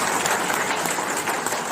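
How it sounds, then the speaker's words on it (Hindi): A crowd of BJP workers greets a guest at a celebration with loud, continuous applause, a dense and steady roar of many hands clapping nearby through the whole moment. "एक बार जोरदार तालियों से उनका स्वागत करते हैं।"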